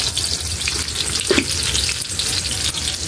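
Tinola fish soup bubbles in a pot on the stove, a steady crackling, sizzling hiss with a brief clink near the middle, heard close up and continuous without talking.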